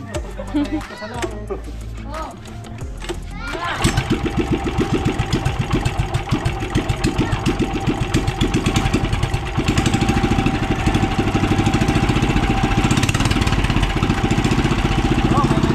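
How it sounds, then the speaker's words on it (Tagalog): A boat motor sputters at first, then settles into a steady, loud rapid chugging that runs continuously, with voices talking over it. "Nagana yung makina!"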